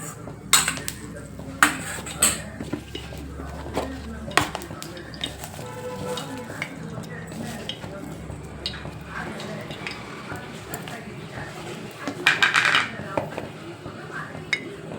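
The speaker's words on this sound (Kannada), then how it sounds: "ನಾನು ಇಲ್ಲೊಂದು ಸ್ವಲ್ಪ ಕರ್ಬೇವಿನ ಸೊಪ್ಪು ಫ್ರೈ ಮಾಡ್ಕೊತೀನಿ ಸ್ವಲ್ಪ ಮೀನಿಗೆ ಗಾರ್ನಿಶ್ ಮಾಡಲಿಕ್ಕೆ" Curry leaves frying in a pan for a coastal-style fish fry garnish, a soft sizzle under repeated metal clanks and scrapes of a spoon against the pan, close by, with no voices.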